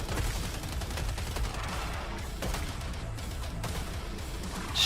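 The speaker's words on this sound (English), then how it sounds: "Shotgun there, nice." Dense gunfire in the zombie game Killing Floor 3, a blur of overlapping shotgun blasts and other weapon shots over a loud, continuous battle din with no clear gaps.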